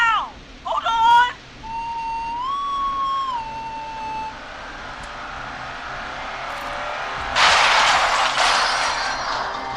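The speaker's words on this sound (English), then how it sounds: "It's the whistling man!" A man's eerie whistled tune from the horror video game Killer Frequency rises and dips in a clear melodic line, followed by a loud burst of car engine and crashing noise.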